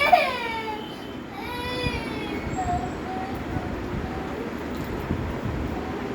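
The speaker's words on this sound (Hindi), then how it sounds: "देखो फालतू में चिल्ला रहा है।" A young child cries and wails loudly in a home, the cry rising and falling in repeated bursts over a steady background hum.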